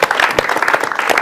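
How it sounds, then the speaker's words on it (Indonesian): Dense applause from a live television studio audience, many hands clapping steadily and loudly at close range, with faint voices mixed in. "tepuk tangan lagi"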